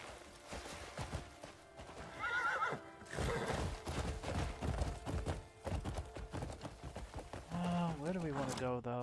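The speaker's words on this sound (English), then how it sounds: "Horse!" A horse in a video game neighs and whinnies repeatedly over clip-clopping hooves, with a player talking over the game sounds.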